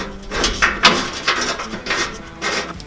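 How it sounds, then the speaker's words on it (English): A ratchet with a 17mm socket snugging down lower skid plate bracket bolts on a Toyota Tacoma, giving quick repeated close clicks and scraping strokes in steady rhythm. "install the lower skid plate bracket and tighten them down with a 17mm socket"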